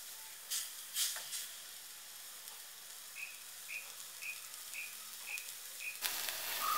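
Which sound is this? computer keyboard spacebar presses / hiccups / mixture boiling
mixture boiling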